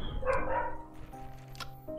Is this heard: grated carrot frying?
no